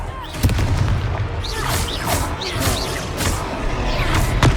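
A Confringo blasting spell explosion in Hogwarts Legacy, a booming blast layered with crackling impacts and a combat din that runs throughout, loud and close.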